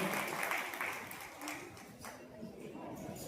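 Audience applause at a Kutch district Prajapati community Saraswati award ceremony, a steady wash of clapping at moderate distance lasting throughout, with faint voices mixed in.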